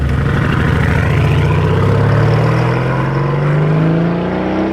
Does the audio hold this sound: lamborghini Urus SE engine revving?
yes